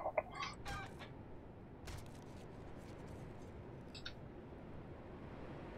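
A few short clucking calls from chickens in the video game 7 Days to Die, quiet and sparse, scattered over a soft background hiss with no talking.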